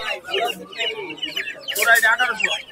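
Fighter cock chicks clucking among a busy bird market crowd, short overlapping fowl calls mixed with chatter and people talking close by.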